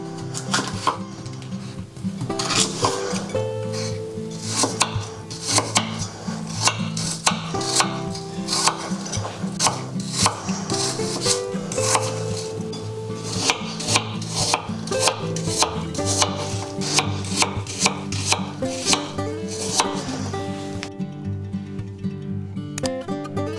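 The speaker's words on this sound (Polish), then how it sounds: "Także jabłka kroimy w kostkę." A knife cuts apples into cubes on a board for homemade juice, producing a long run of quick, fairly regular chopping taps up close, with a steady musical bed running underneath.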